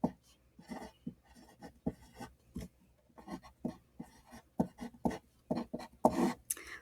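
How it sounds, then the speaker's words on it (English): Pen or pencil scratching out numbers by hand, a run of short, soft strokes in uneven bursts, quiet and close with no voice over it. "So I'm going to write my numbers over here to the side."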